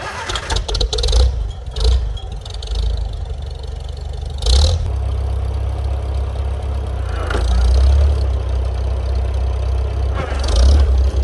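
A Super C tractor engine runs at a low, throbbing idle while backing up, with a few revving surges and clunks breaking through the steady rumble, close to the microphone.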